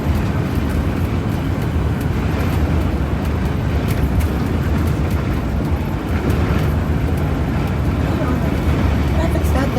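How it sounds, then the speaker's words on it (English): Steady road traffic roars along a slowed, backed-up California highway, a dense continuous rumble of cars with low engine drone heard from close by, loud and unbroken throughout. "Traffic's not that great here either right now, but they're really slowed down."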